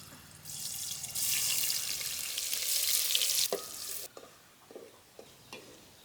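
Chopped onions drop into hot oil in a pot for chicken biryani, setting off a loud, broad sizzle for about three seconds. It then settles into quieter frying with a few scrapes and knocks of stirring.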